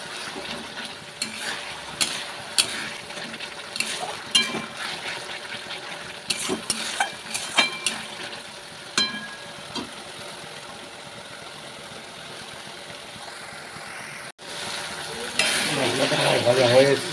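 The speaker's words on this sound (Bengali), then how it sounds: "মশলাটা আমার ভাজা হয়ে এসেছে" Spices frying in oil for a potato dum curry, with intermittent scraping stirs and soft spatters before a louder, steady sizzle swells up near the end.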